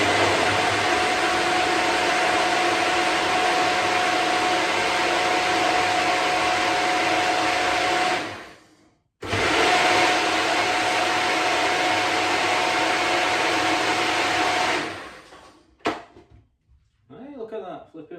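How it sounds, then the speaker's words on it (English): A blender roars loudly and steadily, stops briefly, then whirs again for several seconds before cutting out, followed by faint clinks. "I'll stick it in the blender."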